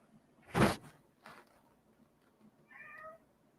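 A pet cat lets out a loud, close meow, followed by a fainter second call and a soft, higher chirping sound near the end, in an otherwise quiet messy room.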